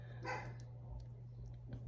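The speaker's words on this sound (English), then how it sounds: "My dog's barking" A pet dog gives a short, faint bark somewhere in the house, a single brief burst followed by near quiet with a low steady hum underneath and no voices.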